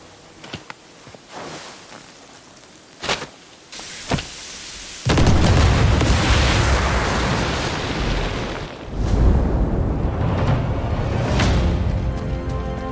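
An overloaded pressure valve explodes in the video game Sniper Elite 5: a few sharp pops and thuds lead into a sudden loud, sustained roaring blast that rumbles on and swells again before slowly fading.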